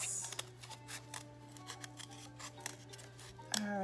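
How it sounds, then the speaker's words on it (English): Scissors cutting through folded cardboard for a recycled-material llama craft, a run of close, quiet snips and crunchy cuts in quick succession, no speech. "going to cut those two out while my cardboard is folded"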